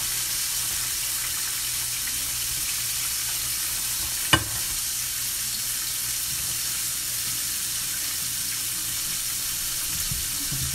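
Pieces of vegan fish fry in a pan with a steady, close sizzling hiss, broken once midway by a single sharp clatter.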